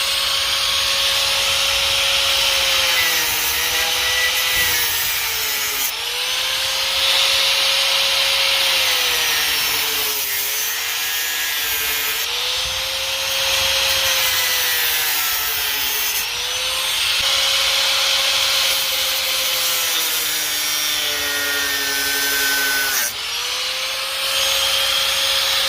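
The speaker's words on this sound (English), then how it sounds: "I'm going to get out the angle grinder, we'll cut this wee section out here" An angle grinder cuts a section out of the front end of a Seat Ibiza 1.9 TDI, a loud continuous whine that dips and recovers in pitch as the disc bites into the metal in repeated passes, no voices.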